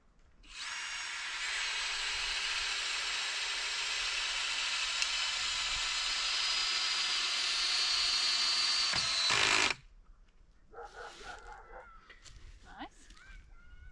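A power drill drives screws into wood while building cheap log storage in central Portugal, one long steady whine of nearly nine seconds that stops abruptly, followed by quieter knocks and handling noises.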